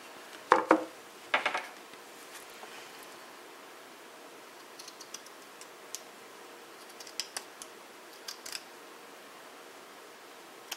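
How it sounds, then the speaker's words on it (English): Scissors cut up material for a shadow frame, giving two crisp bursts of snipping near the start, then sparse faint clicks and taps over quiet room tone. "I'm going to cut this up."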